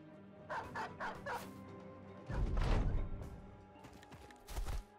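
Dogs bark in a turn-based Battle Brothers battle, a few sharp barks early, a louder burst of barking and snarling in the middle, then another bark near the end over a quiet game backdrop.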